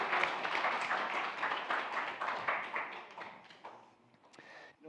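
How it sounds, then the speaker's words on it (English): A church audience gives a warm round of applause, steady moderate clapping that tapers off toward the end with a few last scattered claps. "Give her another big round of applause."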